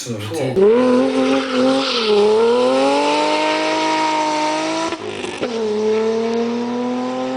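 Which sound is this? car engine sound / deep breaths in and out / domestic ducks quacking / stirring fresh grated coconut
car engine sound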